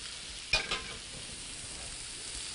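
Pieces of food fry in a pan alongside pancakes with a faint, steady sizzle, broken early by a couple of quick clatters of a utensil against the pan.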